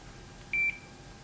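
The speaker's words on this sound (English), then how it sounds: "if you have an ohm meter that can beep" A single short electronic beep from an ohmmeter continuity test on ECM motor windings sounds once, clear and steady over a quiet background hum.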